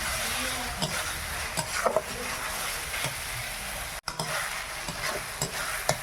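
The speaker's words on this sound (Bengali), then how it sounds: "আদা রসুনটা ভাজা হয়ে গেছে" Ginger and garlic fry in a pan with a close, steady sizzle while a spoon stirs and scrapes in uneven strokes, broken by one brief cut near the middle.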